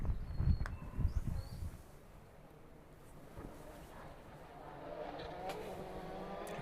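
Desi Henry's Citroen rally car on a West Cork Rally stage roars close by at the start, then fades quickly into the distance under steady wind noise.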